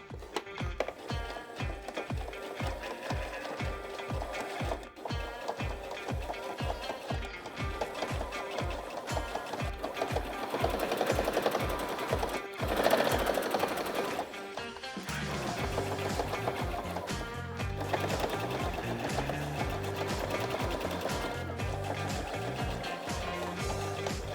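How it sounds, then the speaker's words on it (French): A sewing machine stitches fabric for a dog vest, running in a fast, steady, rhythmic pattern up close, with some brief pauses and changes in pace and no talking. "on va se retrouver sur la machine à coudre et c'est parti pour la couture"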